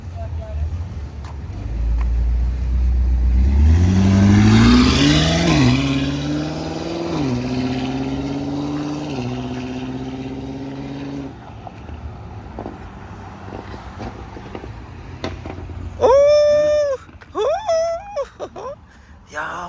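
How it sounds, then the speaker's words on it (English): BMW X6M fitted with a cheap Alibaba aftermarket exhaust makes a drive-by pass, its engine revving and rising in pitch as it approaches, then fading as it moves away, with voices talking over the car. "he's gonna do some drive-by just to hear how the exhaust sound."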